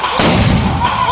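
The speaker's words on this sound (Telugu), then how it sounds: "ఇక్కడ చూసారా మా ఆయన పేపర్ బాంబు" A paper bomb firecracker bursts during home Diwali celebrations, one sharp loud bang followed by a short booming decay, close by with no voices.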